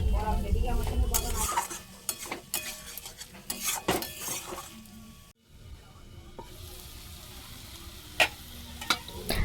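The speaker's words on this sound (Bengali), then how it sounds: "আমি এখানে টমেটো দিয়ে আরও চাপা দিয়ে দিয়ে কিছুক্ষণ কষিয়ে নিচ্ছি" Spices and tomato sautéing in oil for prawn malai curry: a continuous sizzle under frequent clanks and scrapes of a metal utensil against the pot, with a short lull midway before the stirring resumes.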